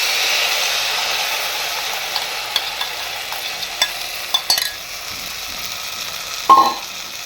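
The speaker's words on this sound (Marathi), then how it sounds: "या ठिकाणी आपण पोह्याचं जे बारीक केलेलं वाटण आहे ते घालून घेत आहोत" Ground poha paste stirred into a hot pan for poha kheer, a soft continuous sizzle with scattered scraping clicks of a spoon against the pan, and a sharper clatter near the end.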